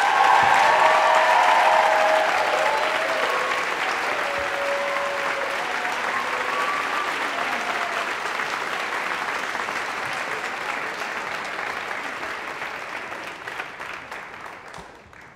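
At a Friends Seminary commencement, an audience applauds to welcome the next speaker: sustained, loud clapping from a large crowd with a few brief cheers early on, slowly fading over about fifteen seconds.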